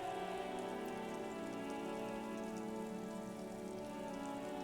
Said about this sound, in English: All around you, rain falls.